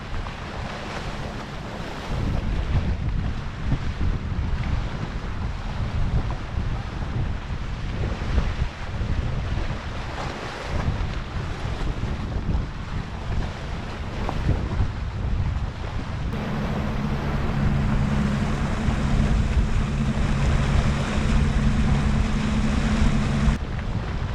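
A motorboat idles slowly forward on open water, a steady low engine rumble blended with wind buffeting and the wash of waves against the hull, growing slightly fuller and louder toward the end.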